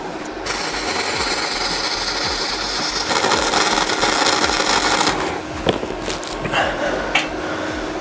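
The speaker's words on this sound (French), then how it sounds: "c'est une première soudure" A Mecafer Mikro MIG inverter welder laying a first weld bead, giving a steady loud crackling hiss that runs continuously, then breaks into sputtering pops near the end, close up with no talking.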